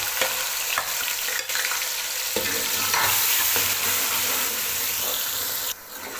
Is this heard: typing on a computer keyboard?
no